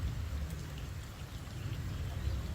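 Rain falls in a continuous, even patter with soft scattered drops and a low rumbling undertone, steady throughout with no voices.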